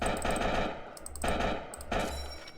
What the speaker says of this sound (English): It's a shotgun. We can pick it up. And you can fire.